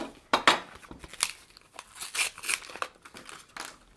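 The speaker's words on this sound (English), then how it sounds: "So let's get an SD card. Let's open that up." SD card packaging being opened by hand, with close crinkling plastic and sharp tearing bursts in irregular spurts, loud and nearby with no speech.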